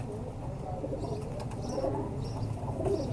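Soft cooing from a male Ferozpuri pigeon, low and murmuring, with faint rustling nearby and a steady background hum throughout.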